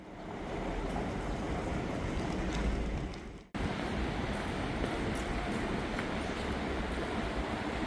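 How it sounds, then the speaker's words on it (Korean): A Korail ITX-Maum passenger train rumbles along with a broad, steady roar of wheels and carriage noise, briefly cut off and resuming at the same loud level. "빨간색 도색이 강렬한 ITX 마음 열차를 타야 합니다"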